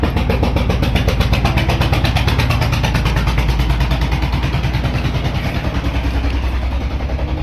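A tractor engine runs steadily and loud nearby with a rapid knocking, chugging pulse that holds throughout without a break.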